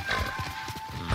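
A horse runs at speed in the samurai video game Ghost of Tsushima, its hooves drumming in a quick, steady clip-clop rhythm, close and fairly loud, with no talk over it.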